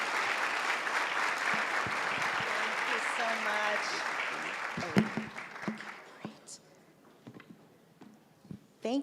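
A conference audience gives warm applause to welcome a plenary speaker, dense clapping that fades after about five seconds into scattered claps, shuffling and quiet murmurs.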